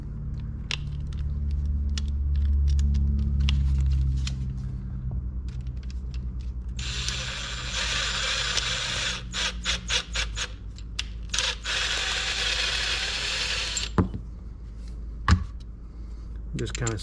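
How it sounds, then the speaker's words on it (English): A cordless impact driver runs in bursts, cleaning out the threads of an eyelet while a steady low mechanical hum continues underneath, its loud whirring cutting in and out with sharp rattling stops. "To speed up the process, I can use my"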